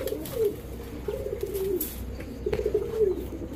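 A female pigeon, a racing bird from a large club, coos in a few soft, rolling low phrases that repeat at a steady pace, close by and alone, with no talking.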